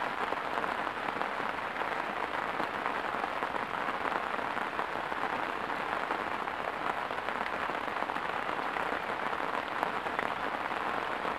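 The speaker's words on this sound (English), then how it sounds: "Sometimes you can't beat rain when there's fishing." Steady rain patters hard on a carp-fishing bivvy at a fen, a dense continuous hiss close overhead with no voices.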